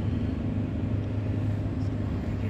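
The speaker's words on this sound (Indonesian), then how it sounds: "Dan mobil di jalan mau lewat, guys." Low rumbling car engine passing close on a road, a steady loud drone with a faint voice murmuring beneath.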